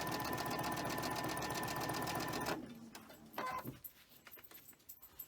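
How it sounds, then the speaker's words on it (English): A sewing machine chain stitches quilt pieces for a gingerbread holiday quilt, running in a steady, fast, close whir for about two and a half seconds, then stopping, followed by faint handling clatter. "we're going to chain stitch these, and it'll give us 1 set of legs"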